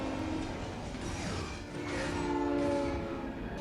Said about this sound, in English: Is that a train coming?